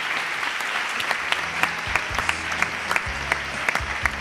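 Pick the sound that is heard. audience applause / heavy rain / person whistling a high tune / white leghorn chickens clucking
audience applause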